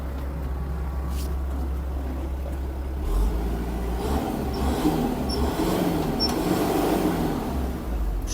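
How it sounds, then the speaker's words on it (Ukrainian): A Kubota KL-550 mini tractor engine, fully warmed up, runs loud and steady, rising slightly in revs partway through, with a continuous low mechanical drone. "чудово набирає оберти, бачите, вже повністю тракторець прогрітий"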